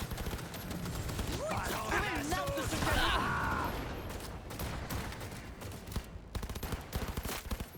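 Gunfire in the video game Cyberpunk 2077 Phantom Liberty, during a mission to rescue the NUSA president. Rapid bursts and sharp shots crackle throughout, denser toward the end, with excited voices talking over the first half.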